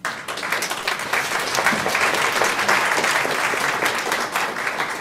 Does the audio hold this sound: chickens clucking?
no